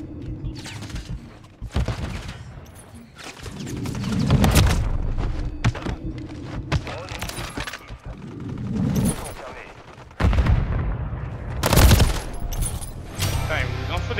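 Gunfire in Call of Duty on the Dollhouse map rattles in repeated bursts and single shots, loud and close, with explosions and mechanical clatter mixed in and a voice talking between the volleys.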